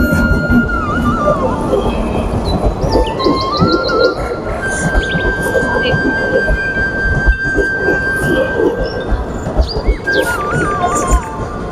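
A train passing on the way to Siddheswar Dham in Naraj, Cuttack, its rumble and rolling clatter held up close and loud throughout, with high whistling tones and birdsong chirping over the noise.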